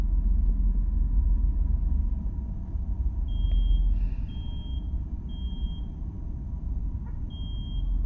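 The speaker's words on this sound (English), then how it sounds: "Is that the alarm clock?" An alarm clock beeps in short, evenly spaced pairs, fairly faint over a steady low rumble of background noise.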